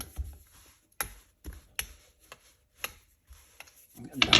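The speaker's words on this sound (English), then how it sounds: "Just going to roll that out" Croissant dough, cross-laminated with raspberry butter, is rolled out on a table, giving a series of soft, separate knocks and rubbing scrapes at uneven intervals, close and quiet with no voices.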